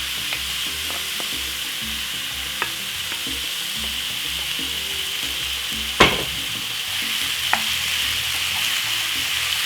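Steak pieces sizzle and fry in a hot frying pan, a steady close crackling hiss throughout, with an occasional sharp clack of a utensil against the pan and brief stirring scrapes.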